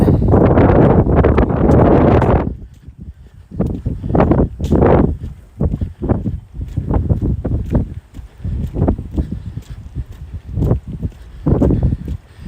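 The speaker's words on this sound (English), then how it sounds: "It'd be a lot worse if that wind was going towards me instead of from behind me." Wind gusting outdoors on a west end trail, loud buffeting bursts against the microphone, strongest at the start and then coming in uneven gusts.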